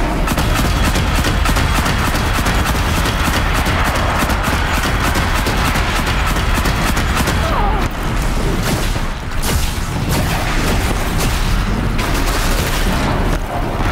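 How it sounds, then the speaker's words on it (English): Mine launcher fired in Horizon Zero Dawn during a fight with a Scorcher machine in the Frozen Wilds, with dense booming blasts and mechanical clatter running continuously and loudly throughout. "Mine launcher."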